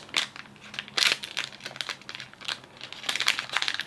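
Packaging around a wire knitting spool being cut open, with close crinkling and crumpling of plastic in irregular bursts, fairly quiet and with no voices.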